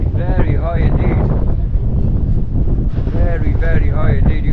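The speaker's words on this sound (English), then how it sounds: "Very windy up here." Strong wind buffets the microphone high up at the top of Blackpool Tower, a constant loud roar that continues under people talking.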